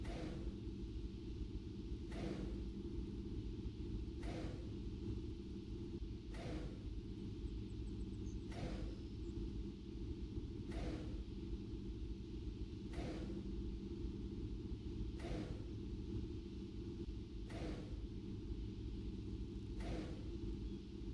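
A steam locomotive's air compressor in a railroad simulator game, chugging in a steady rhythmic pulse about every two seconds over a constant low rumble, sustained and even throughout.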